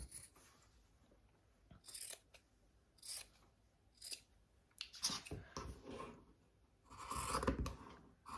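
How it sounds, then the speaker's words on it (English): Several sharp scissor snips cutting threads at irregular intervals, close and crisp, with a quick cluster of cuts near the end and no talking. "I'll go for my Christmas scissors instead. So just snip that off."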